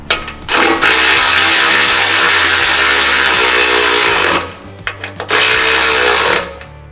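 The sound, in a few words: tightening bolts with a 14mm socket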